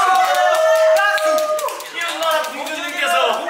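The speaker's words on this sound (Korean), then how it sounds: "박수. 박수." Clapping from fans at a K-pop cafe event, a bright patter of hands mixed with lively voices and chatter that sit on top of the applause throughout.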